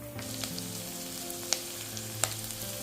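Cubed onions sautéing with green chillies for chilli pork, a soft steady sizzle in the pan with a couple of faint clicks, fairly quiet and without talk.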